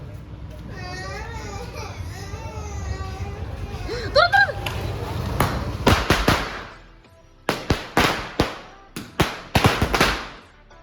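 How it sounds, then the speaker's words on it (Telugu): Diwali firecrackers burst one after another in a series of sharp, loud bangs and crackles near the end, following a stretch of adults and someone talking. "మా బాబు ఫస్ట్ టైం క్రాకర్స్ కాల్చాడు"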